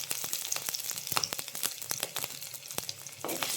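Ginger and curry leaves sizzling in a pan with beef: loud close frying crackle with sharp spattering pops throughout, no voices.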